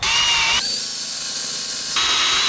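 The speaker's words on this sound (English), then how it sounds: "Drill this one first." A power drill grinds loudly into a seized metal wheel lock nut nearby, its pitch dropping as it bites under load, then rising again as it frees up.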